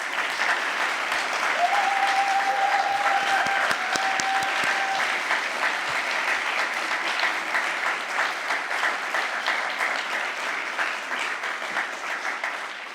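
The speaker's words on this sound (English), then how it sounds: "give a round of applause for" A crowd at an awards ceremony applauds steadily and loudly for the whole stretch, dense clapping with a brief high whistle-like tone early on.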